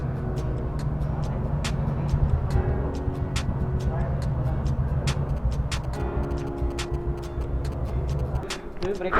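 Turn indicator ticking steadily on a Yamaha RX-135 two-stroke motorcycle, a rapid regular click over the bike's low idling engine rumble, with a voice talking nearby.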